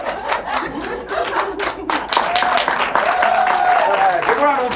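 Clapping and cheering erupt from a theatre audience for Don and Alec on an opening night show, building from scattered claps into fuller applause with shouts and voices mixed in.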